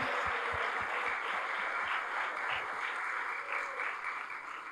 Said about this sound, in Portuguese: Podemos aplaudir o Senhor por isso?